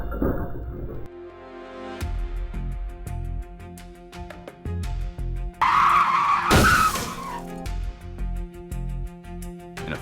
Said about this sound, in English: a truck in Michigan loses control and smashes through an insurance store